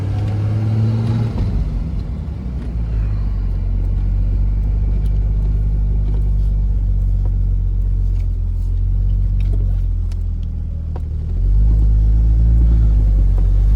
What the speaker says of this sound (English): we're going to be taking the 1973 Triumph out for a drive